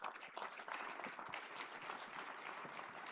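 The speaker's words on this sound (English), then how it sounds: "how about a round of applause?" Steady crowd applause fills a campus hall during a university address, fairly quiet and distant, with a continuous wash of many hands clapping throughout.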